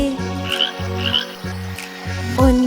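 A green frog croaks four times in a steady, evenly spaced rhythm, close and clear, backed by soft background music with no talking.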